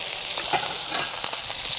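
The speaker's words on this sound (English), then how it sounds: "When we're searing off the lamb, starting to get some good browning" Sous vide lamb searing in a hot pan, a loud continuous hiss and sizzle with faint stirring taps underneath, no talking.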